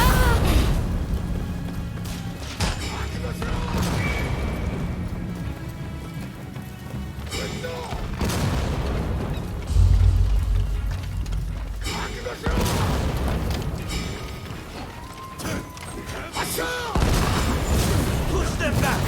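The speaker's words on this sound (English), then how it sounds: "Fire the cannon!" Booming cannon fire in the video game Rise of the Ronin thunders repeatedly over a dense battle din of crashes and clatter, with shouting voices mixed in.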